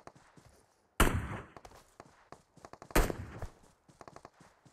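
Sharp bursts of shooter video game gunfire, two loud blasts about two seconds apart followed by rapid smaller pops and clicks, close and dry with no talking over them.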